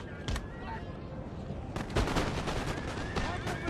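Gunfire and cannon shots crack through a video game battle, with sharp bursts and a heavy boom standing out over a continuous noisy background of combat.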